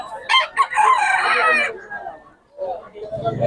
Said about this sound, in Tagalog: Maraming manok to si Tatay Tony.